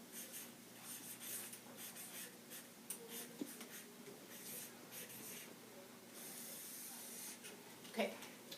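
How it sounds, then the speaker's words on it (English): A pen writes on paper in a quiet room, making soft, intermittent scratching strokes in short bursts with brief pauses between them. "we're going to be writing down some of the things, some of the questions that we're asking"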